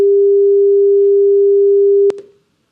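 A steady synthesized tone played through a computer sound card holds a single pure pitch for about two seconds, then cuts off with a brief click and fades out.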